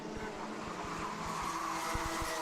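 Buzzy engine drone of a small racing kart nearby with an unusual exhaust noise, steady and rasping with rhythmic pulsing throughout.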